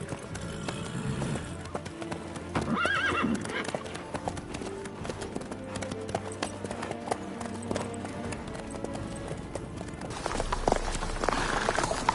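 Hooves clip-clop steadily under a horse in the video game The Witcher 3, with a brief whinny amid game music while people talk over it throughout.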